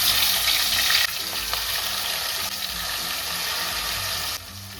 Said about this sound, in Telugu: కొంచెం మ్యారినేట్ చేసుకున్న చికెన్ కూడా వేద్దాం